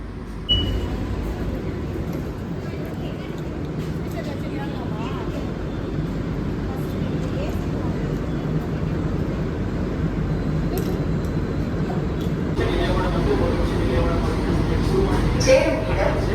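A MEMU passenger train from Villupuram to Tambaram arriving at Chengalpattu Junction rumbles steadily throughout, a low continuous mechanical roar with faint voices underneath, growing slightly louder toward the end.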